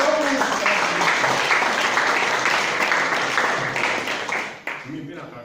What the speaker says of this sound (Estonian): Nii et aplaus!